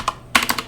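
Quick bursts of keystrokes on a computer keyboard as a Linux terminal command is typed, a short close clatter of several taps with a brief pause in between.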